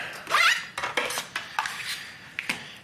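Chopped onion dropped into a metal cooking pot, a clattering rattle followed by several lighter clinks and taps, close and moderately loud with no talk.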